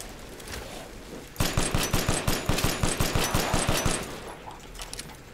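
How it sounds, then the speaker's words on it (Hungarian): Rapid automatic gunfire in Resident Evil 8 bursts in suddenly after a quiet stretch, a loud, evenly spaced string of about fifteen shots lasting a few seconds before trailing off into faint ambience. "Honnan lövöldöz a szuka?"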